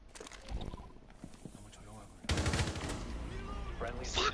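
Pistol shots in a video game: quick sharp reports crackle amid game noise, partly masked by people talking over them.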